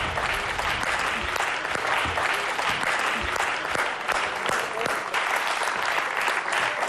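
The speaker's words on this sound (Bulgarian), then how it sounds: "Аплодисменти." A studio audience on the Bulgarian version of the game show Deal or No Deal breaks into loud, continuous applause, a dense and steady clatter of many hands that fills the whole stretch without letup.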